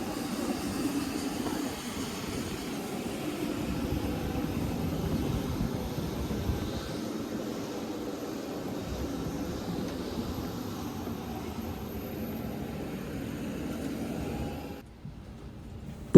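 Steady cabin roar inside an EasyJet Airbus A320neo cruising between Edinburgh and Birmingham, a constant broadband engine and airflow hum that holds evenly before dropping off near the end.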